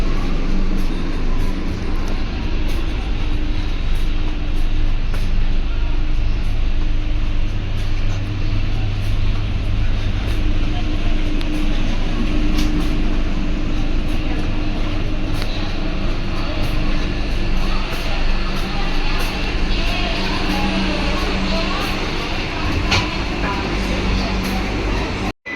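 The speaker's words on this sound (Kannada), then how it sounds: "ಗೈಸ್ ಫೈನಲ್ ಆಗಿ ನಮ್ಮ ಟ್ರೈನ್ ಮೂವಿಂಗ್ ಆಗ್ತೈತೆ ಮೈಸೂರು ಜಂಕ್ಷನ್" A passenger train pulling out of Mysore Junction, heard from on board as a steady, loud rumble of wheels and engine that runs without a break, with no talking over it.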